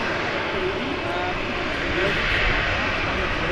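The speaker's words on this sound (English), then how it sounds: "I think it's the Austrian taxiing out" Austrian Airlines airliner taxiing out at Manchester Airport, a loud continuous roar of engine noise with broad hiss, steady and slightly swelling, while people talk under it.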